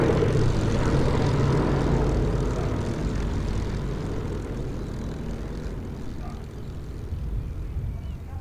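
Propeller plane droning overhead, a steady low rumble that starts loud and slowly fades a little as it passes, with no other sounds over it.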